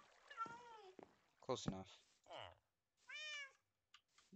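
A cat meows several times outdoors, clear and fairly close, with drawn-out calls alternating with a person talking to it.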